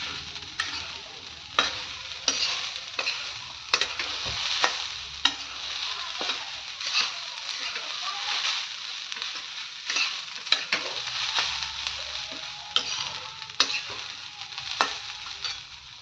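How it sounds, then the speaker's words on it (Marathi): Grated coconut stirred with a little ghee in a pan for ukadi modak filling: steady close sizzle with repeated scraping strokes of a spoon, no voices. "सारखं हलवत राहायचं नाहीतर हे करपतं थोडंसं तूप ॲड करूयात मिक्स करूयात"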